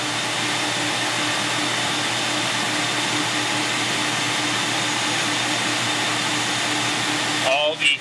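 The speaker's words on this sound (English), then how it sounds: "So that brass wheel is actually scoring where the bag is going to be folded so that we can create a quality bag." Steady loud machine drone from an Oce Arizona 550xt flatbed table as a brass wheel scores fold lines on a bag, constant throughout, with a brief clatter near the end.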